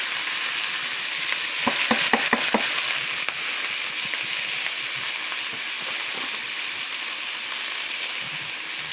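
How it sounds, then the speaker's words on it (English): Sliced store-bought deli corned beef fries in a hot pan with a steady, loud sizzle throughout, a few sharp utensil taps early on. "Store-bought corned beef. Going in a hot pan."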